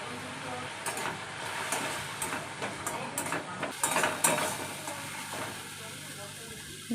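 Okra and spices such as salt, turmeric and chili sizzle in hot oil in a pan on a gas stove, a steady crackling fry with occasional stirring scrapes, close and fairly loud.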